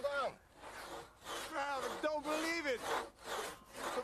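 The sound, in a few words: two-man hand saw cutting wood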